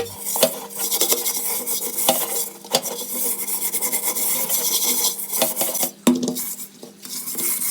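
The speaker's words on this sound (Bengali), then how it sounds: "এখন তারের মাজনিতে ভিমবার লাগিয়ে ঘষে নেওয়ার পালা" Burnt cooking pot scrubbed with a wire scrubber and Vim bar, giving a harsh, continuous rasping scour in quick back-and-forth strokes with occasional metallic knocks, close and loud with no voices.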